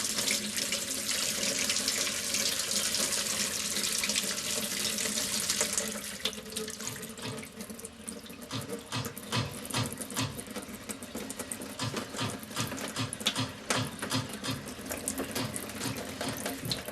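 Water gushes steadily from a cold water tap for several seconds, then gives way to rapid rhythmic knocking and banging in the pipes as the flow continues, fairly quiet overall.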